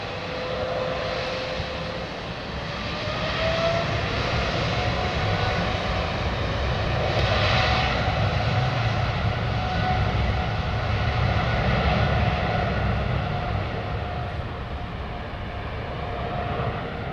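Boeing 777 jet airliner engines roaring on departure, a loud continuous broadband rumble and whine that swells slightly mid-way and holds steady, heard close with no talk.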